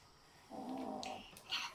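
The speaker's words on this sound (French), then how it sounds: "j'ai cru qu'il grognait, mais il ronfle." A single soft, close snoring breath from a dog, a short nasal rumble followed by a faint wheezy exhale, in a quiet room.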